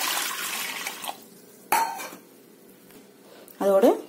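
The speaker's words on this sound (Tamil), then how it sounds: "ஒரு 400 ml தண்ணி ஊத்திக்கோங்க" Water poured from a vessel into a pressure cooker holding soaked chickpeas in a home kitchen, with short splashy pours and metallic clinks of the cooker and utensils separated by quiet gaps.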